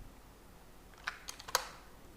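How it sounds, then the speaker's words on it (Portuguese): Computer keyboard keys pressed as a Ctrl T shortcut: three quick, faint clicks close together in a quiet room. "eu vou pressionar as teclas Ctrl T"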